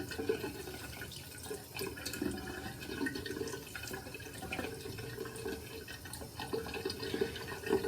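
Cold tap water runs steadily into a sink for rinsing a freshly shaved face in Florida, a constant splashing hiss with small shifts in the flow and no talking.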